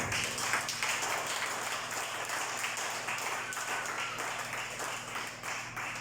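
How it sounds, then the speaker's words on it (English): Congregation clapping at a religious summit, a continuous, even rush of hands heard at a modest distance, holding steady before easing slightly near the end. "Clap."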